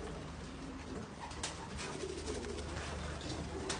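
Pigeons coo softly and repeatedly in a loft, the low murmuring calls running steadily under a constant background hum.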